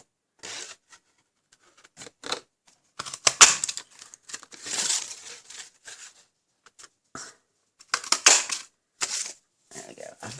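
Scissors cut a bow shape from navy cardstock in bursts of crisp snips and crinkling paper. The sounds are close and sharp, with brief pauses between the runs of cuts.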